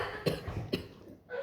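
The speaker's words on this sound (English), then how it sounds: "Why am I coughing?" A performer on stage at a live, sold-out podcast show coughs twice, close to the mic. The coughs are short and sharp, about half a second apart, with a little room noise around them.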